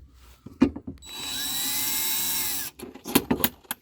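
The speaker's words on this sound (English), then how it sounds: "I will screw in these 4 bolts" A power drill whirs steadily for about a second and a half while driving bolts into a replacement lock on a Thor Majestic RV, with close metallic clicks and handling knocks before and after the run.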